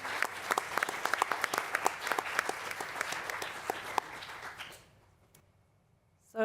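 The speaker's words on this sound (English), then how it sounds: "And we'll give you a round of applause." Audience at a school board meeting applauding the high school student council: fairly sparse, distinct claps from a modest group that keep up for several seconds, then stop abruptly, leaving near silence.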